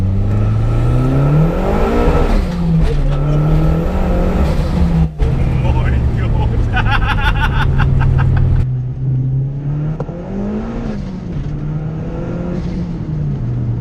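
A 310 bhp Duratec turbo Mk5 Ford Fiesta accelerates hard along a road with a loud, close engine drone that rises and falls through the gears, and occupants exclaim over it.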